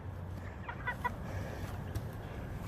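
Chickens on a small farm cluck in short bursts, mid-distance, with soft low rustling and a few brief higher calls mixed into the steady background.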